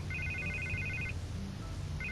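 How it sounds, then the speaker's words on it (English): A telephone rings in the Batman Telltale Series game with a repeated electronic ring in two bursts, separated by a short pause, over a steady low background hum. "I can't get the phone to stop ringing."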